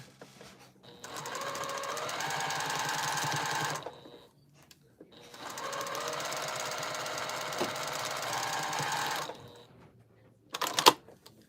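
A sewing machine stitching quilt seams runs in two long steady bursts of rapid mechanical chatter, each lasting a few seconds, separated by a short pause and followed by a brief clatter, close up with no speech.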